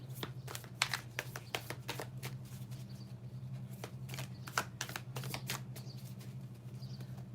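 Tarot cards being shuffled and drawn during a live reading, a run of soft, close riffling and sharp slaps repeating irregularly over a steady low hum, with no talking.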